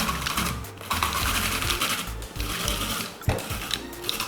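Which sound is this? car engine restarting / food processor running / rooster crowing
food processor running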